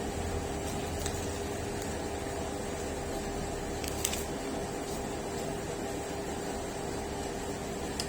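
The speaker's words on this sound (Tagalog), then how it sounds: "Ang ingay ng AC." An air conditioner runs in a quiet indoor space, a steady broadband whooshing hum with a faint tonal drone, constant and unbroken, with only a few tiny clicks and no talking.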